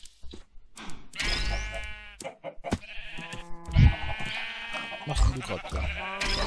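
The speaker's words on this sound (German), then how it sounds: "Also ich verpflanze gerade Schafe." Sheep bleat repeatedly in the Minecraft FTB Ultimate modpack, their wavering game calls overlapping with casual talk between players and other game sounds.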